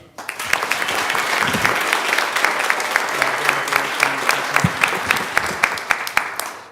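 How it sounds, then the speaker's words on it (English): An audience at a school board meeting applauds a coach, steady dense clapping from a roomful of people that holds evenly for several seconds before tapering off at the end. "If we can have a round of applause for Coach Ben"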